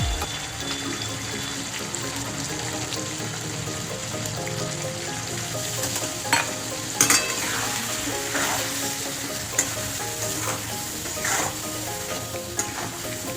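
Ground spices with salt, turmeric, cumin, coriander and chilli powder sautéed with a little water in a pan, a continuous bubbling sizzle with occasional sharp clinks of a spoon stirring.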